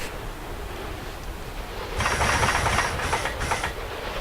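A biplane engine in the Rise of Flight video game sputters and catches after a quiet stretch, settling into a steady hissing, rattling run that cuts out briefly twice.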